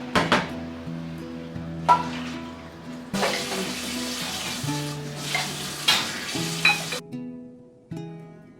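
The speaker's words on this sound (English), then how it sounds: "Frying the samosas." Samosas frying in a pan of oil with a steady sizzle, broken by bursts of stirring and clattering utensils, plus a brief splash of running tap water near the end.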